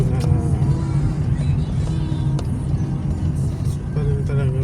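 Cars roll past on an open road, a steady heavy rumble with a wash of tyre and engine noise that swells and fades slightly as vehicles go by, with faint voices underneath.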